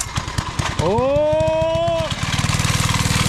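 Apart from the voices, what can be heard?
mini bike engine running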